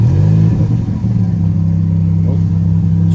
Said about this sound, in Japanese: ちょっとなんかこちらもエンジン、かけていただけると聞いたんですけど